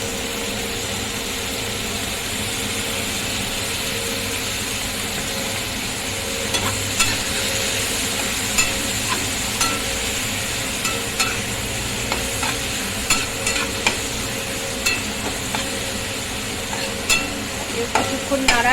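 A spoon stirs green and red chili sauces in a hot pan for chicken sausage, a steady sizzle with repeated scraping strokes growing more frequent toward the end.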